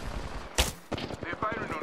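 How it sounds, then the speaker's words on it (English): Enemy gunfire in the Apex Legends battle royale game, a sharp close shot followed by a few scattered rapid reports, brief and fairly loud against a quiet background. "They're firing on me."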